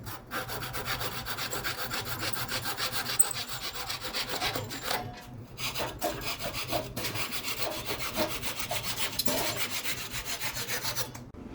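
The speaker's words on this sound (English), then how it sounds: "It's a little Japanese style saw, so this is what we're going to use to cut our material." A small Japanese-style pull saw cuts through knife handle material in steady back-and-forth strokes, a close, dry rasping rhythm with a couple of brief pauses.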